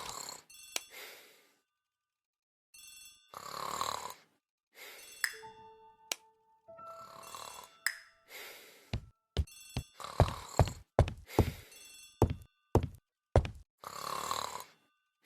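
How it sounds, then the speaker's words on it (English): An old-fashioned telephone rings in a hallway in the mystery game Agatha Christie: The ABC Murders, loud bursts of ringing separated by pauses and mixed with other game sounds, no talk. "The telephone in the hall is ringing."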